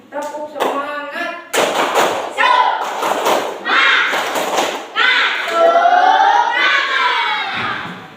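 A primary school class stands and claps the rhythmic 'tepuk semangat' chant, sharp hand-clap bursts in a patterned beat mixed with loud children's voices chanting and shouting together, close and lively in a classroom.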